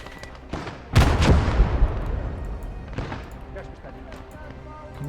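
Heavy artillery booms in the video game Blood Red Snow: one loud close blast followed by a rumbling tail, then a second, weaker boom, over a low battlefield drone.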